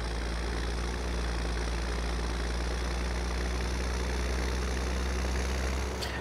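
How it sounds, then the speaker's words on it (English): A John Deere tractor engine idles steadily in Farming Simulator 2017, a constant low rumble that holds at an even level throughout, with no voices over it. "Actually, the first time this tractor's been to this yard."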